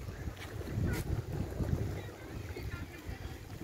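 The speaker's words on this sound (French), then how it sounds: "Malheureusement, il y a pas mal de vent encore" Gusty wind buffets the microphone at a small lakeside sailing base, a low rushing roar with swelling bursts and a couple of sharp gusts, steady under a faint background.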